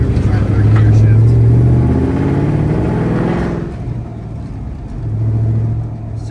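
A drift-prepped car's engine revs and changes pitch as it is shifted into third gear, loud and close, with the tone dropping as the gear changes and rising again afterwards.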